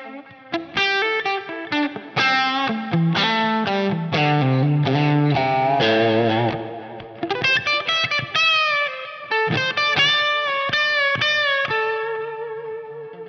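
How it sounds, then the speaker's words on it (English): Electric guitar played through a Line 6 Helix with chorus and delay effects, a continuous run of plucked notes and chords with shimmering, echoing tails, sounding alone at a steady level. "so that I'm gonna get more direct signal with less of the chorus delay"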